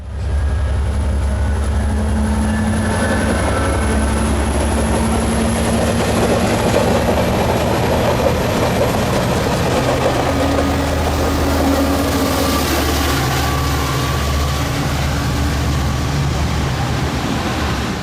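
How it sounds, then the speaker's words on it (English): North Carolina Department of Transportation passenger Train 71 throttles off near Elm in Greensboro, a steady, loud rail rumble with a low engine drone and a faint high whine holding for the whole span, no voices. "North Carolina Department of Transportation Train 71 was throttling off for High Point soon after"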